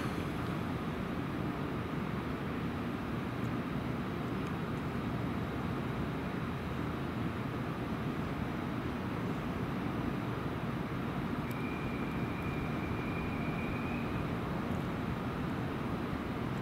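A steady, low rumble of a JR 811 series local electric train pulling out of Mojiko Station, with a constant broadband roar and a faint high whine rising briefly near the end.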